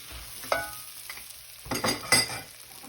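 Ethiopian dulete cooking in butter in a pan, a soft steady sizzle broken by a few scraping stirs and clinks of a utensil against the pan, close and alone without talk.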